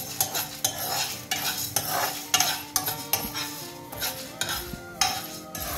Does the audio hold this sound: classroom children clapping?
no